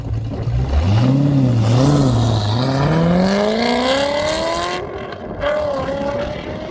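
A C6 Corvette Z06 pulls hard through second gear from about 2,800 to 7,000 RPM, its engine note rising steadily and loudly before easing off, with no talk.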